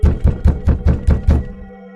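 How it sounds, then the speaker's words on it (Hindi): Loud, close knocks pound on a door in a horror animation, six heavy evenly spaced blows in quick succession, then the sound fades away with no voices. "तभी चुड़ैल उनके दरवाजे पर पहुंचकर जोर जोर से दरवाजा खटखटाने लगती है।"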